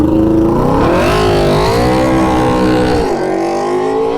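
A Ducati GP22 racing motorcycle engine drones loud and steady, its pitch swelling and dipping as the revs rise and fall, close by with no voices.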